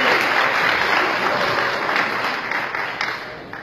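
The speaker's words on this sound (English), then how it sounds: "Applaud this man." A standing crowd at an Allegiant announcement gives a full round of close, dense applause that gradually thins and fades toward the end.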